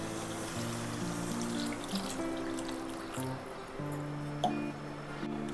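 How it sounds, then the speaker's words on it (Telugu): About a litre of water trickles and splashes into a cooking pot for a raw banana tamarind stew, a soft steady pour running faintly under background music. "ఇప్పుడు 1 లీటర్ నీళ్లు పోసుకుందాం."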